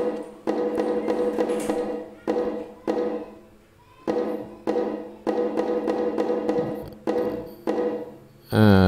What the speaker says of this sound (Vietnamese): Đúng rồi, tiếng trống nhỏ.